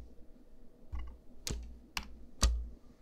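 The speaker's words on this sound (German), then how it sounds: "Ich nutze die Tastatur und nicht mehr dieses Ding." Several separate keystrokes on a computer keyboard, sharp clicks spaced irregularly about half a second apart over a quiet room tone, fairly close and clear with no talking.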